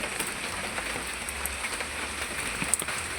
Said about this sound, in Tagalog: Medyo siya nag-ulan